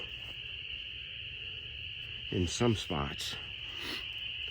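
At night in the woods, cicadas drone in a steady high whine while frogs chirp in a few short trilling bursts nearby; a person speaks briefly over the insect noise.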